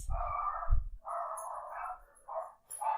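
Several dogs bark and yip in repeated close bursts, with a brief pause in the middle before the barking resumes; no talking.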